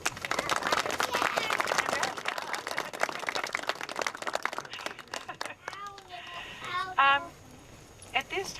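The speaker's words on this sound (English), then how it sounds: "So I think we need to give him a little round of applause here." Applause from a veterans' gathering audience, dense clapping for about five seconds before thinning out, followed by scattered voices and a child's high chirps.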